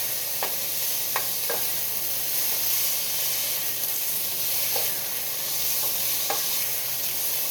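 Fatty chunks of chili meat fry in a pot with a steady, close sizzle, a few sharp pops and light stirring clicks scattered across the noise.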